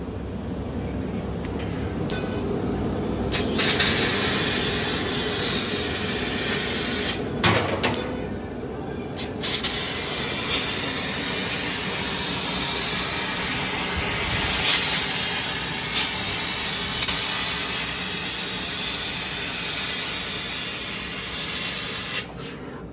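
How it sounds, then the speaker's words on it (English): A 3 kW CNC fiber laser cuts 1/4 or 3/16 inch steel sheet using oxygen assist gas, a loud continuous hissing roar with brief pauses and restarts between cuts. "I think this is either 1/4 inch or 3/16 cut with oxygen here."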